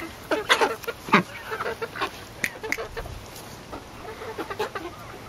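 Ducks clatter and quack in a busy flock while eating grubs, with scattered bursts of splashy dabbling and pecking sounds close by, no talking.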